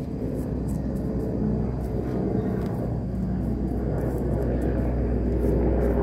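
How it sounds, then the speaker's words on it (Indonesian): A plane passing over a small home garden on its regular morning route, a steady low rumbling drone filling the background, continuous and fairly loud without a clear approach or fade. "Lagi ada pesawat di sini, berisik. Setiap pagi lewat pesawatnya."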